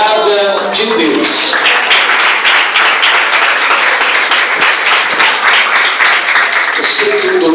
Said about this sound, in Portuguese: Sente-se aplaudindo a palavra de Deus.